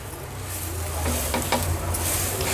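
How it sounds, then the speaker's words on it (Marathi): Cheese corn paratha roasting in ghee on a pan, with a continuous sizzle and soft scraping as it is pressed down, over a low steady hum. "आणि असं ना ह्याला दाबून दाबून आपल्याला भाजायचं आहे"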